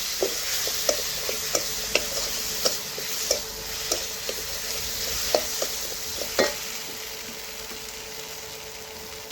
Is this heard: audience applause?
no